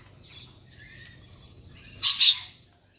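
Galahs and corellas squawking outdoors: faint chatter, then a loud, harsh squawk or two near the end over a soft, low background rumble.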